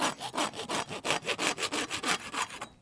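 A folding saw cuts through wood in a quick, even run of about a dozen close push-pull strokes, each a rasping scrape, ending abruptly.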